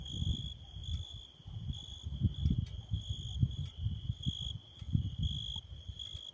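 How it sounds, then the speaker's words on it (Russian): Steady, high-pitched cricket chirping pulses on and on at dusk around ten o'clock, in a quiet evening setting with fog, with soft low rumbling underneath. "Тишина и поют сверчки."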